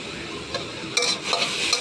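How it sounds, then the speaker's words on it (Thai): Holy basil stir-frying in noodle soup broth with no oil, a brief close sizzle with a few sharp spatula scrapes against the pan. "ผัดให้เข้ากันก่อนเลยจ้ะ"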